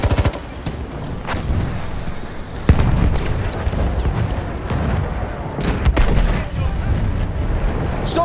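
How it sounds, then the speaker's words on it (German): A grenade detonates with a heavy thump in the middle of a Battlefield 1 firefight, set against continuous loud gunfire and battlefield rumble that persists on both sides of the blast. "Komm, Granate raus."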